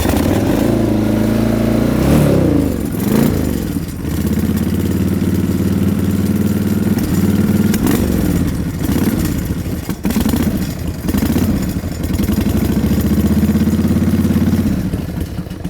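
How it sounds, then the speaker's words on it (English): A Harley-Davidson XL1200C custom cafe racer fires up and settles into a loud, close, lumpy idle, then revs hard several times in sharp bursts before falling back to a throbbing rumble. "let's see if it'll start up"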